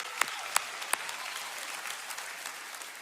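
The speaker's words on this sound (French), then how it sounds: "Oh oui, applaudissez." A church congregation breaks into applause, with a few sharp, loud claps standing out at first and then a softer, steady patter of clapping from a modest crowd.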